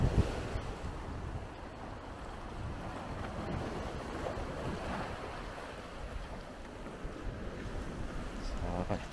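Sea waves wash continuously onto the beach at Ao Pakarang, the rocky southern tip of Koh Samet, with wind buffeting the microphone and surf swelling slightly louder toward the end.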